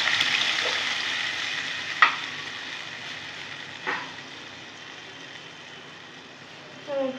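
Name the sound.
stirring and mashing tomatoes in a pan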